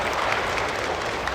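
A brief burst of congregation clapping during a school Mass homily, steady and moderately loud, lasting just over a second.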